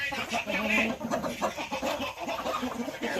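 Several chickens on a farm at night cluck and chatter continuously nearby, a busy overlapping flock with no talking.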